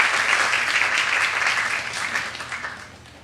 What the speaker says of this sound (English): Let's give him a round of applause for the beautiful breakfast we've enjoyed.